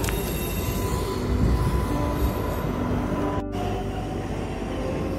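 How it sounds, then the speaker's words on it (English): Inside a Queens-bound New York subway 7 local train, a loud continuous rumble of wheels on rails carries faint squeals and tonal whines, with a sudden brief dropout partway through. "This is a Queensbound 7 local train."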